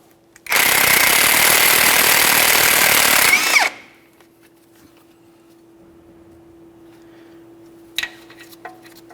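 A power tool on a Ford F-150 tie rod nut, a 21mm outer tie rod mounting nut, rattles in one loud continuous burst of about three seconds, then stops, leaving a faint hum and a couple of small clicks.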